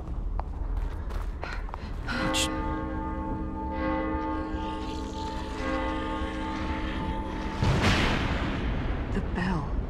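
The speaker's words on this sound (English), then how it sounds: "The bell." In the video game TEW The Assignment, a deep bell strikes once with a heavy clang, then its long ringing tone hangs and slowly fades over a dark, rumbling ambience.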